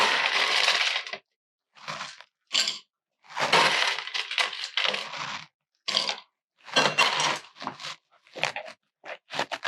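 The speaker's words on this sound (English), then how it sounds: "We'll fill our glass with ice." Ice cubes clatter and crack into a glass for a whiskey-style mocktail in several separate bursts, close and fairly loud, with short silent pauses between drops.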